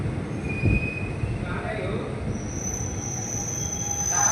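A train rolls along the rails, a steady rumbling hum broken by high metallic wheel squeals that rise and linger, with a brief bump of a knock early on.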